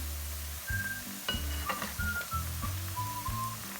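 Sliced shallots deep-frying in oil until crisp, Thai street-stall style, give a steady crackling sizzle with a few light metal clinks of a utensil against the pan, over low rhythmic background music.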